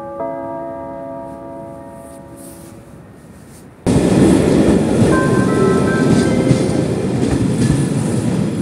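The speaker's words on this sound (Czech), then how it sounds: "Projede vlak." A fading horn-like tone gives way to the sudden loud roar of a train rushing past a station platform, a steady rumble with rattling wheels.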